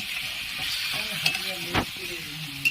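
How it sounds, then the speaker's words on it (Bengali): Chicken do pyaza stir-frying in a pan, a steady soft sizzle with a few scraping stirs and clinks of the spatula, close and moderate in level. "এবারে এটি ভালো করে কষিয়ে নিতে হবে।"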